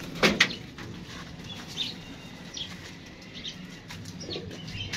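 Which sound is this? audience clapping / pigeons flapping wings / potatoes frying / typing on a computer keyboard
pigeons flapping wings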